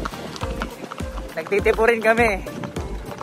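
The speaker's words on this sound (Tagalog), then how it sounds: "At te-train kami ng ano, kabayo sa karera, para sa karera." Racehorse hooves clip-clopping in a steady run during training on a rough, bumpy farm track, with rhythmic thuds close by while someone speaks over them.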